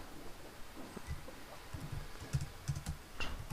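Fingers typing on a computer keyboard, quick soft key clicks in an irregular run, faint and close, with no voices.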